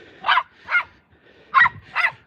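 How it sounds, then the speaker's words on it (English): Juno the dog barks four times at another dog during play, in two sharp, loud pairs with a short pause between them. "we know Harris, who Juno's barking at"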